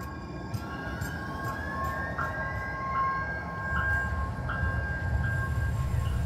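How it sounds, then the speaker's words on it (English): Salt Lake City Trax Green Line light rail train rolling along, a steady moderate rumble with faint tonal squeals and periodic clicks of wheels over track joints, heard from on board. "We were on the Trax Green Line headed into downtown Salt Lake"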